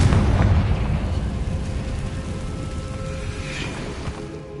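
Confringo spell explosion in Hogwarts Legacy, a heavy burst at the start followed by a rumbling, fading boom and debris crackle.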